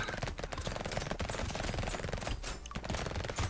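SMGs firing rapidly in the arena game Brotato: fast, continuous rattling shots pile up into a steady, busy stream of gunfire with no break.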